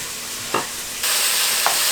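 Onion browning in a pan for Hungarian goulash, a steady close sizzle that grows louder and brighter partway through, with two brief stirring scrapes.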